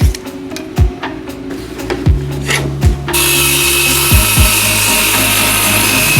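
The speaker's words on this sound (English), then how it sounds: "use this as my guide for my circular saw" A circular saw whines steadily through plywood after several sharp knocks and clatters of wood being handled and clamped; the cutting noise is loud and close.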